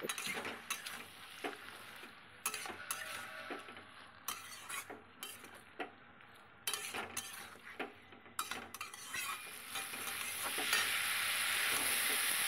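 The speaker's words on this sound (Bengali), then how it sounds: "অল্প জল দিয়ে ভালো করে কষিয়ে নেব" Fish curry in a pan stirred with a utensil, repeated sharp scraping clinks in an irregular rhythm over a quiet sizzle that grows louder and steadier toward the end as water goes in, no voices.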